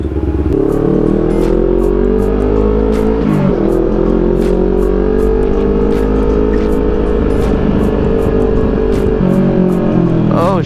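An NK 400 motorcycle engine revs hard and drops through a downshift, a loud, close roar with rising and falling pitch and brief dips between gears, while someone talks over it.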